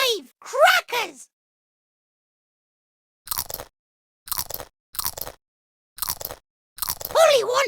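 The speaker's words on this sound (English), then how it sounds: "Win a sticker for every 20 correct crackers you feed Polly" In a Peppa Pig video game, a cartoon parrot eats crackers: short crisp crunching bites come in separate bursts with silent gaps between them, and a voice can be heard near the start.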